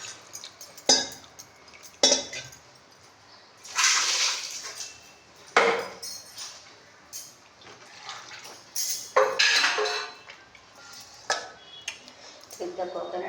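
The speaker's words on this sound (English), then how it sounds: "Take the coconut, we have to wash it." A coconut being washed with water, heard as scattered splashes, knocks and clinks arriving in irregular bursts, fairly close and moderately loud, with quiet gaps between.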